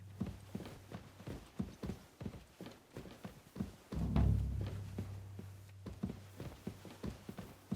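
Steady clip-clop of a horse's hooves walking at an even pace in the video game Kingdom Come: Deliverance II, with a low rumbling hum beneath and a brief thud midway.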